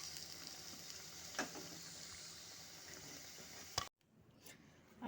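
Carrot fritters (dhoka) frying in oil, a faint, even sizzle with a couple of soft stirring touches that cuts off abruptly near the end, leaving near silence.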